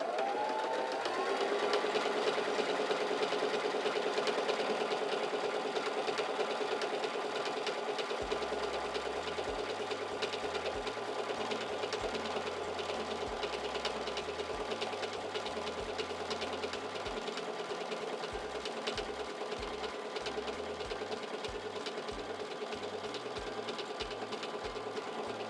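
A SINGER Simple 3337 sewing machine stitches fabric with a steady, close mechanical whir and a rapid rhythmic needle chatter that runs continuously without talk.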